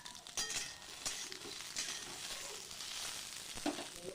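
Okra pieces fry lightly in a hot pan with a soft, steady sizzle, punctuated by faint scraping and clinking as they are stirred.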